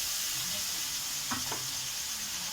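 Spice paste hitting hot oil in a pan gives a steady, fairly quiet sizzle throughout, with two brief brighter crackles partway through.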